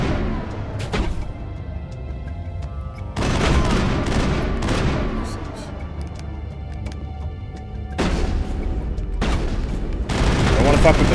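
Gunfire in Mass Effect, a fight with shotguns and sniper rifles: heavy loud bursts of shots come in three dense clusters separated by quieter stretches of rumble and talk.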